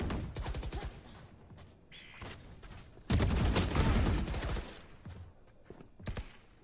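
Rapid gunfire bursts from a competitive video game match, a loud dense volley in the middle with shorter clusters of shots before and after, largely free of talk.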